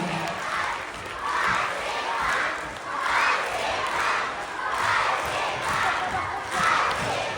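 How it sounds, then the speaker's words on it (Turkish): Loud crowd noise at a festive ensemble performance, a dense wash of clapping and cheering voices swelling in repeated waves, steady and close throughout. "Gürültülü alkışlar"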